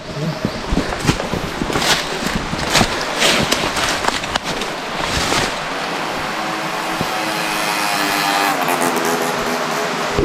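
A motorcycle passes along a forest trail, its engine rising and falling through the first half amid rustling and footsteps, then fading to a steady distant hum with faint wind.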